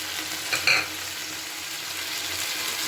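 Mixed vegetables and spices with salt, turmeric and chilli powder being stirred and fried in a pan for a rohu fish curry, a steady soft sizzle with a couple of brief scraping stirs near the start.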